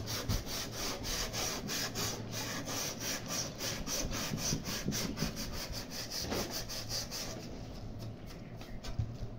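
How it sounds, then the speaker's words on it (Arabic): Coarse sandpaper scrubs rust off sheet metal in fast, rhythmic back-and-forth strokes, close and steady, before easing off near the end. "هتجيب اول حاجة قطعة صنفرة خشنة، تمام، وهنبدأ نصنفر الصدى كده اهو"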